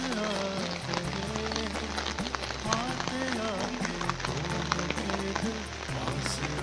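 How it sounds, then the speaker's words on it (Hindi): Heavy rain pours steadily over flooded farm fields with chili and bell pepper plants, a dense continuous hiss and patter with low rumbling, while a voice talks faintly underneath. "अभी भी बारिश नहीं रुकी है यार।"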